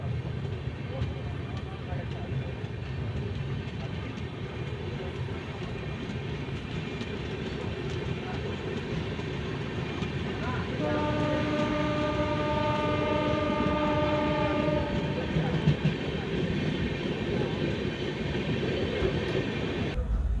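Prasanti Express 18464 (KSR Bangalore to Bhubaneswar) sounding a long, steady horn midway, amid the rumble and clatter of the train pulling out of the station, with voices faintly in the background.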